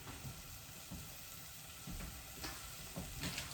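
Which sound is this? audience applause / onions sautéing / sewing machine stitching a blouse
onions sautéing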